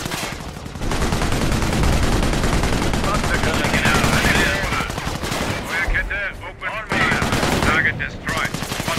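Dense, sustained gunfire from the Company of Heroes WWII strategy game: overlapping rifle and machine-gun bursts crackle almost continuously for nine seconds, with a brief lull near the start and in-game voices occasionally heard through the battle.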